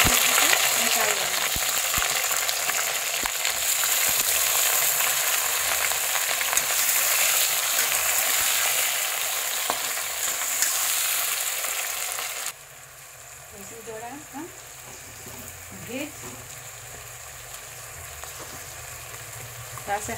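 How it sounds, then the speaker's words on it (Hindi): Whole spices fry in hot oil with fried onions for a vegetable biryani, giving a loud, dense sizzle that drops to a quieter crackle about halfway through, with occasional stirring scrapes. "अब इसमें हम खड़ा मसाला डालकर सारे को हम इसमें फ्राई कर लेंगे।"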